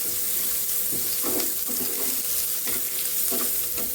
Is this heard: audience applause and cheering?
no